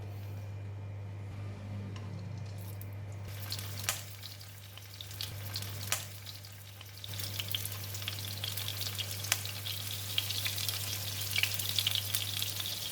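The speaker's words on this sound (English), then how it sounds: "waiting for the oil to heat up, we're going to sear the scallop" Scallops sear in about two tablespoons of hot cooking oil in a pan, a steady close sizzle and crackle that swells after a few seconds and keeps frying without talk, with occasional utensil clinks.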